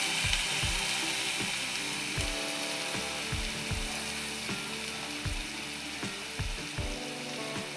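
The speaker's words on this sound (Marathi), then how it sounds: "हे सर्व एकत्र मसाले असे फ्राय होऊ द्यायचे आहेत आपल्याला." Mixed spices with coriander powder and chilli powder fry steadily in a pan of fish curry, a continuous close sizzle punctuated by repeated low clanking knocks from stirring or the pan.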